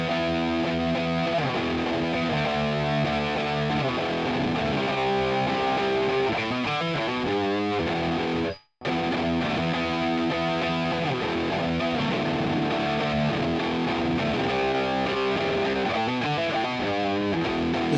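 An electric guitar with distortion, picked with a 3D printed pick, plays a dense, gritty riff with a rough attack; the sound is loud and continuous apart from one brief dropout near the middle.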